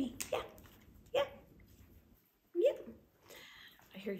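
A dog barks a few times at a distance, sharp separate yaps with pauses between, muffled as if coming from outside.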